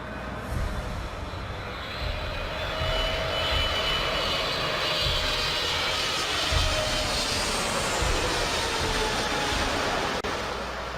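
A landed airplane's engine roaring steadily and loudly for several seconds, a broad continuous rumble with a faint whine on top, no voices.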